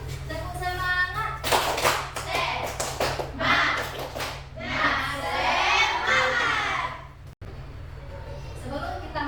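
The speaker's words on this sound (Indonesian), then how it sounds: "Ice breaking kita hari ini adalah tepuk semangat." A class of sixth-grade schoolchildren performs the tepuk semangat clapping chant: bursts of rhythmic group clapping mixed with loud shouted chanting, a sharp break, then a teacher talking over a low hum.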